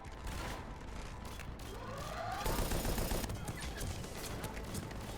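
Rapid turret gunfire in the shooter game Mass Effect 3, a dense, continuous rattle of automatic shots that grows louder partway through, mixed with mechanical whirring and battle noise.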